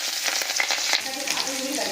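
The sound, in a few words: fish roe frying in hot oil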